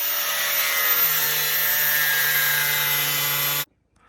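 Power cutting tool trimming a plastic mud flap while fitting a Carbon Creations diffuser to a C6 Corvette: a steady, loud, high whine running continuously for about three and a half seconds, then cutting off abruptly to silence.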